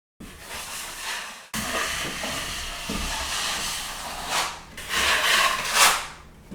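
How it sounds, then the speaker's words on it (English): Drywall joint compound around a window return is sanded by hand in short, gritty scraping strokes, close and fairly soft, with a brief pause early on and louder rasping passes toward the end. "And then you just sand that little area."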